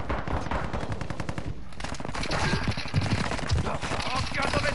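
Dense, continuous rapid gunfire in Call of Duty with repeated sharp bursts, loud and close throughout, with no talking.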